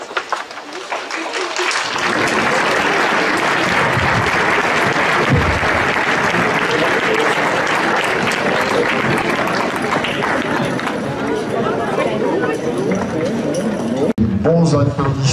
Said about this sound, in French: Bons applaudissements pour ce club de cavaliers châtillonnais